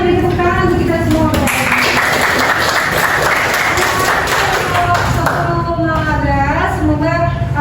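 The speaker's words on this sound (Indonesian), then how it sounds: "Oke, semuanya beri tepuk tangan untuk kita semua." A school classroom audience claps together in steady, dense applause that carries all the way through. Voices can be heard talking over the clapping.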